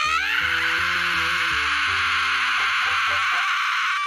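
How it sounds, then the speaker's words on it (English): A terrified woman's blood-curdling scream from the Family Guy cartoon, a loud sustained shriek carrying over low background music for about four seconds. "We are then treated to the most terrifying, blood-curdling scream any human has ever let out."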